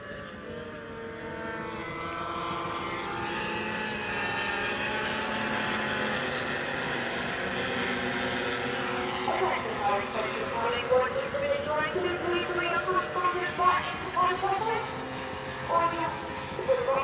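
Stock racing scooters at the Anglesey circuit: a continuous buzzing engine drone rises and shifts in pitch as machines come round the track, growing busier and more uneven toward the end, with commentary talk running over it.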